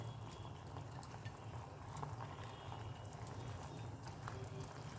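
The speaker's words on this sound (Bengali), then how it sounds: "দেখো ঝোলটা ফুটে উঠছে" Fish curry gravy with fried pabda fish bubbling in a pan, a steady low simmering hiss with small pops, quiet and continuous.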